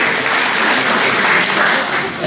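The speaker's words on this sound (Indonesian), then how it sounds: "Tepuk tangannya guys, tepuk tangannya dulu dong" An audience at a campus gathering applauds, a dense, loud, continuous clapping that fills the whole moment without pauses.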